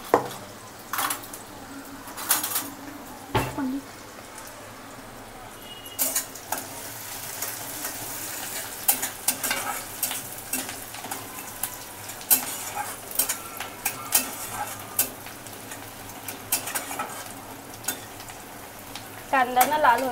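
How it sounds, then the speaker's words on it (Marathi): Onion is stirred and sautéed in oil for Konkani chicken vade, with a soft continuous sizzle broken by repeated scraping and clinking of a spoon against the pan, close up, and brief faint voices. "कांदा ना लाल होईपर्यंत परतायचं."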